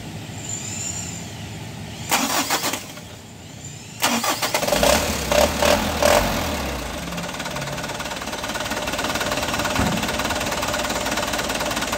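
A car engine being started after a fuel filter replacement: two short cranking bursts, then the engine catches and settles into a steady, fairly loud idle with some knocking, with no talk.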